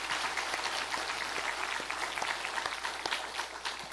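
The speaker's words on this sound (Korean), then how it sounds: "우리 격려의 박수 한번 보냅시다" A church congregation claps in encouragement during a worship service, a faint, fairly even patter of many hands at a distance that carries on throughout.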